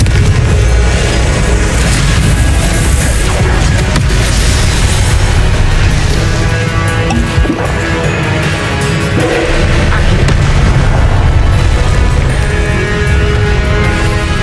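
The Confringo blasting spell in the video game Hogwarts Legacy: a loud, dense wall of booming explosions and crashing debris, continuous and overwhelming throughout with heavy low rumble and no pause.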